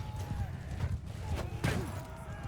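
Horse hooves clip-clopping during a medieval battle in Bannerlord with the War Sails mod, a steady run of close hoofbeats layered over low battle rumble and scattered game effects.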